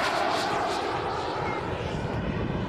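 Aero Vodochody L-39 jet trainer, a Czechoslovak aircraft from the 1960s, roaring steadily overhead with a broad, sustained engine rush and a slight swell in pitch across the short stretch.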